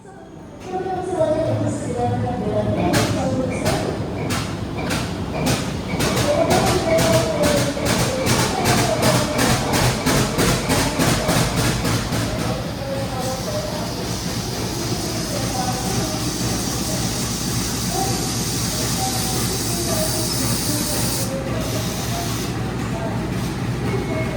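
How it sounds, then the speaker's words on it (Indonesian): A CC 201 class diesel locomotive engine cranks with rapid rhythmic pulses, then catches and settles into a steady loud rumble with a hissing blast of air near the end. "kita lihat proses menyalakan lokomotif CC 2018905"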